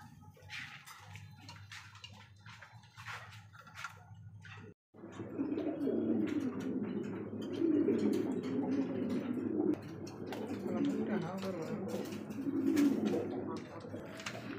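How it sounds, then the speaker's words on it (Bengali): Pigeons cooing steadily at a pigeon farm, racer and Lahori birds kept in coops, with soft repeated coos and a bird call rising after a brief quiet start, moderately close, with faint splashing water in the background. "চলো আমরা এক এক করে কবুতর দেখার চেষ্টা করি"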